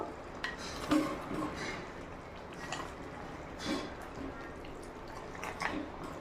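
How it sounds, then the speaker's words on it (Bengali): Meat with kasuri methi and coriander leaves stirred in a pot, a few soft scraping and clinking strokes at an even pace, fairly faint against a quiet kitchen background. "এবার নেড়ে চেড়ে ঢাকনা দিয়ে আটকে দেবো"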